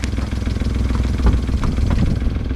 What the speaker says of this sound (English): Give it a rev, Chris.